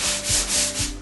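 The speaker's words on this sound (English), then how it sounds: "as you're sanding out" Rhythmic scratchy rubbing of sandpaper on a painted wall, back-and-forth strokes in quick succession, close up.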